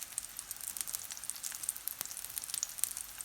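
Tofu pieces sizzle steadily in a hot frying pan for a vegan General Tso's dish, a dense crackling hiss with scattered pops, close and continuous with no talking.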